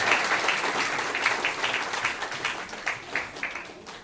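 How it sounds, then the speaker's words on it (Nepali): A wedding congregation applauds together during a church ceremony, a dense, steady wash of clapping from many hands that holds at a fairly even level for several seconds. "हामी ठुलो ताली बजाएर"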